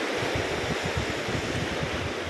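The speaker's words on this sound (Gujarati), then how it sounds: "ફૂંફાડા મારતું પાણી" Water rushing through a large canal at Kadi, a steady broadband roar with low churning surges, constant and fairly loud with no talking.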